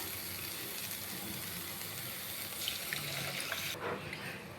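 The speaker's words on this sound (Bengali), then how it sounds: "এবার আমি এর মধ্যে দিয়ে দেব জল।" Water poured into a pan of cooking masala for a mustard paneer gravy, a steady rushing hiss throughout that cuts off near the end, close and without talk.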